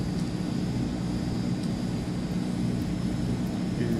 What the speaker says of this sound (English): And it actually sounds like an airplane now.